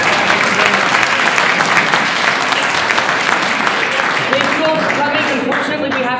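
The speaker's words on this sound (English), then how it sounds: "Round of applause." Crowd applause at a live event, dense sustained clapping throughout, loud and close, easing slightly toward the end.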